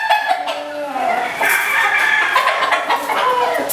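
Gamefowl rooster clucking and calling in a bird-raising yard, a steady run of close, fairly loud calls lasting a few seconds with some background noise.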